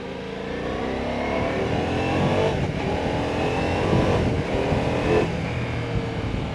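Ducati Multistrada V4S motorcycle engine revving and pulling through gears, a steady loud mechanical roar with rising pitch sweeps and brief dips at shifts, heard alone without talk.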